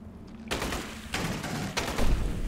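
Gunfire in the video game Aliens: Colonial Marines, several loud shots in quick succession, the bursts landing about half a second apart over a steady background rumble.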